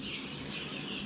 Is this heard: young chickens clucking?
yes